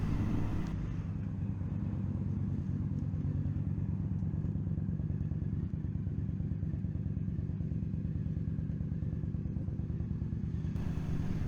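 An Indian FTR 1200 motorcycle rolls slowly into a parking space, its engine a steady, close low rumble with a throbbing pulse that holds for about ten seconds before cutting out.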